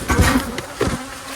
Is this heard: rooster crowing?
no